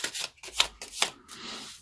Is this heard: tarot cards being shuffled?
yes